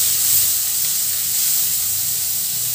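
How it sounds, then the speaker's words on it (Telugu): Chopped tomato and onions fry in a pan with a constant, loud, even hiss of steam and sizzle that carries on without a break. "ఇది టమాటా కుక్ అవుతుందండి కదండి."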